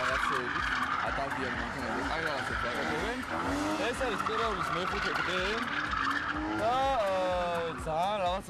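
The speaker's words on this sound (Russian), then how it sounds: "прошли показательные выступления мастеров дрифт" Drift cars skid through a show at an extreme sports week in Tbilisi, engines revving up and down with tires squealing continuously, loud and close, and a voice talks over the noise.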